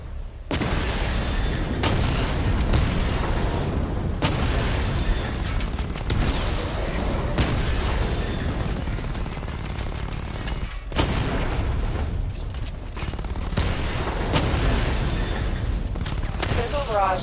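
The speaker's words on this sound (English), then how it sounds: "Charge the missile barrage to level 2 to destroy up to 4 targets at once." A missile barrage in Batman Arkham Knight sets off heavy booming explosions in dense, rolling bursts with brief gaps between volleys. The sound is loud and continuous, and a voice seems to talk over it.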